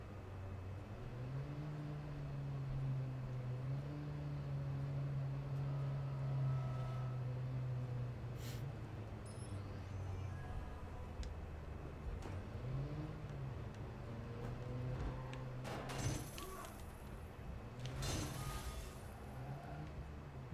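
An engine drones and revs in a video game, the car's pitch rising and falling through several gear-like swells, followed by a few sharp clanks and bangs near the end.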